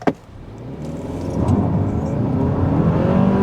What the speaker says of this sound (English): when you press that accelerator, you hear the slight growl of this engine